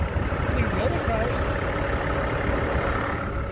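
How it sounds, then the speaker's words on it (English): Steady low rumble of traffic passing on a road, continuous and fairly loud, with voices talking faintly over it. "you can hear the other cars"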